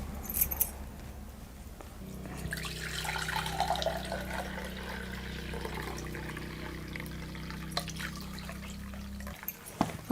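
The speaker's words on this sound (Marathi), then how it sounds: "हे सुद्धा मी आता मी पाणी आहे ना हे काढून घेते" Water trickles and drains out of a container of soaked potatoes for several seconds, with faint splashing and a light metallic clink near the end.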